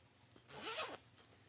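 One quick zipper pull on the pocket of a crocheted granny-square tote bag, a close, crisp rasp lasting about half a second in an otherwise quiet room.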